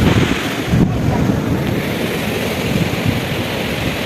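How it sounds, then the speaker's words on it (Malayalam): Strong sea wind at a Kerala beach blows straight into the microphone, making a loud, steady roar that fills the whole stretch. It buries any surf or surrounding sound, and no one speaks. "ഇന്ന് കടല് നല്ല കാറ്റുണ്ട് ഗൈസ്."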